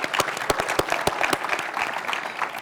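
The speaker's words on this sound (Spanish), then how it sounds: "Otro fuerte aplauso." Audience applause at a business talk on data and AI, a short burst of close, distinct hand claps from a small crowd, loosely rhythmic and tapering off.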